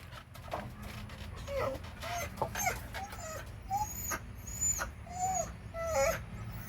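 A dog whimpers and whines in short, high, rising cries scattered across the clip, over a steady low background hum.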